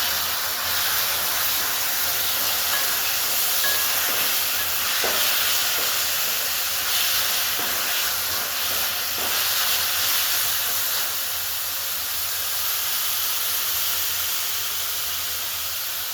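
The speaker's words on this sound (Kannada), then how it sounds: "ಈಗ ಟೊಮೆಟೊ ಹಾಕ್ತಾ ಇದ್ದೀನಿ" Tomatoes hiss and sizzle steadily in a hot pan while hyacinth bean curry cooks, a continuous close, bright frying sound with a few faint clinks and no talk.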